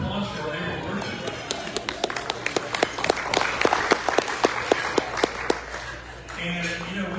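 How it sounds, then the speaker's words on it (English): Small group at a club lunch gives a round of applause for April birthdays, a few distinct, sharp claps in a steady rhythm that stand out over room chatter and fade after several seconds. "Well, round of applause for April birthday."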